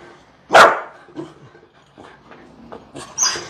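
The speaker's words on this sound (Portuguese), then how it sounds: "Mas normalmente o cachorro vai latir fazendo barulho" A single sharp dog bark up close, followed by faint shuffling and a softer yip near the end.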